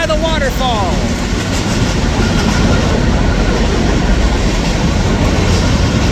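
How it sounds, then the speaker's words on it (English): A train passes near Multnomah Falls waterfall, giving a loud, steady rumble with clickety-clack wheel noise that holds for the full stretch without a break. "A train going by the waterfall."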